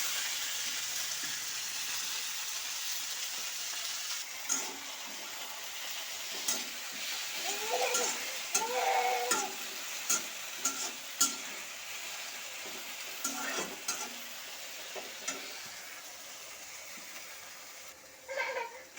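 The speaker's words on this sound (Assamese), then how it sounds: "টেঙামৰাখিনি এতিয়া ভালদৰে ভাজি ল'ম।" Oil crackles and sizzles steadily while roselle leaves are stirred and tossed in a pan, with occasional soft scraping and clinks.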